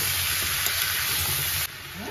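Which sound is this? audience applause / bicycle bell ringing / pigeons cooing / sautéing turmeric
sautéing turmeric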